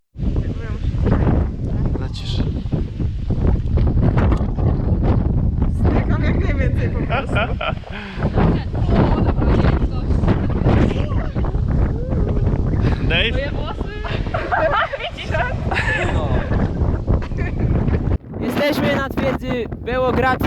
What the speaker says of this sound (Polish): i wieje przepotężnie, dlatego nie wstaję dla bezpieczeństwa